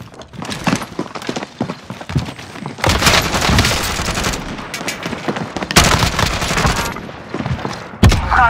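Rapid video game gunfire in a Rebirth Trios match, with loud automatic bursts and clustered shots arriving in waves, close and dominant, with brief quieter gaps between volleys.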